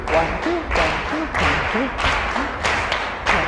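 A dance class claps a steady two-count beat while walking with a slight spring, sharp hand claps landing at regular intervals, with a voice counting along underneath.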